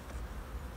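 Soft, close droning buzz of many honeybees around a hive, steady and quiet for a brief moment.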